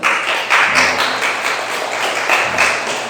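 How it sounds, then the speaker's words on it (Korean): Applause from a church congregation at a Sunday worship service, a steady broadband patter of many hands clapping at once, fairly loud and continuous throughout with no talk over it. "박수 한번 하겠습니다"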